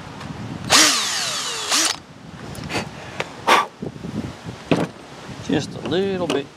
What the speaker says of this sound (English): We can drill this hole out just a little bit bigger.